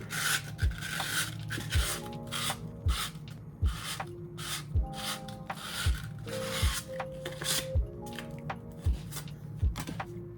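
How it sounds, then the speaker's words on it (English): Sandpaper rubbed by hand over a corroded engine mount, rhythmic back-and-forth rasping strokes about once a second, close and fairly loud, with no other sounds. "Take some sandpaper, clean it up."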